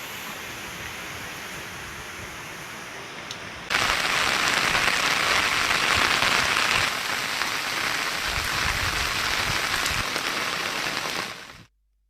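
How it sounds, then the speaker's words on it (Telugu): Heavy cyclone rain pours down in Warangal, a dense, steady roar of downpour on surfaces that grows louder and fuller a few seconds in and continues unbroken before cutting off. "భారీ వర్షం."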